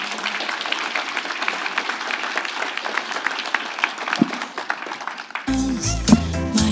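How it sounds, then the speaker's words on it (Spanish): An audience at an international tourism administration congress gives a burst of applause, a dense patter of claps that runs for several seconds before giving way abruptly to music. "un placer y fuerte aplauso"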